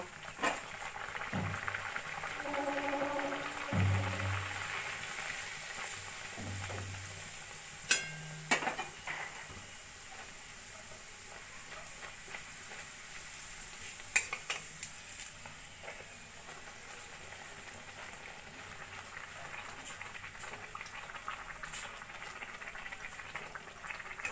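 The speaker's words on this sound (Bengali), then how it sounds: "এবার আমি কচুরিগুলো একে একে ভেজে নেব" Pea kachuri fry in hot oil in a wok with a soft, steady bubbling, and a few sharp clinks from a utensil break in.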